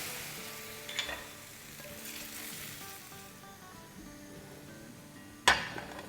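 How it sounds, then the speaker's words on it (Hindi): Hot tadka tempering sizzles and crackles as it is poured into a pot of dal, with a steady frying hiss and a sharp burst of spattering near the end. "तड़का डाल के हिलाएंगे"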